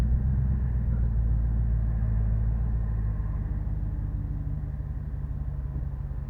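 Steady low rumble of a 2014 Ram 1500 with the 5.7L HEMI V8, resonator deleted and fitted with a tubular muffler, idling while standing still, with a continuous deep drone and no talk.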